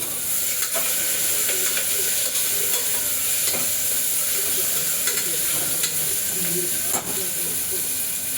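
Cut onions, green chillies and curry leaves fry in a hot pan for bagara rice, giving a steady close hiss and sizzle that runs throughout with faint stirring scrapes and clicks.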